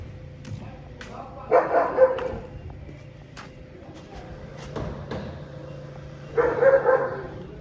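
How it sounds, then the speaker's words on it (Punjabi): Dogs bark in two short bursts, a few seconds apart, heard at a moderate distance over a low background hum. "ਆਪਣੇ ਕੁੱਤੇ ਵੀ ਭੌਂਕੀ ਜਾਂਦੇ ਆ ਕਮਲੇ ਵਾਂਗੂ"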